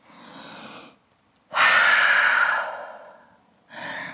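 A deep breath taken in a yoga downward dog pose: a soft exhale, a brief pause, then a long, loud, close inhale that fades out, followed by the start of another breath.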